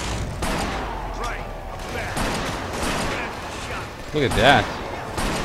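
Gunshots ring out in Killzone 2, a handful of sharp reports over a steady bed of game noise, with someone talking briefly over the action.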